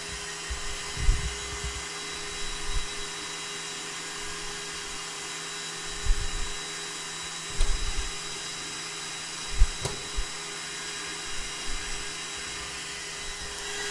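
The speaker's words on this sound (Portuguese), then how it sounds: "Tenho aqui nossa super batedeira, agora vai ter um barulhinho." An electric stand mixer whips well-chilled cream for a pavê, producing a steady, high-pitched motor whine throughout with a few brief knocks and clicks.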